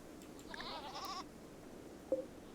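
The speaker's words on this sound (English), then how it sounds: "there's more than one goat." In the video game Rimworld, a goat lets out a single wavering bleat, fairly faint against a quiet background, followed by a brief click-like game sound.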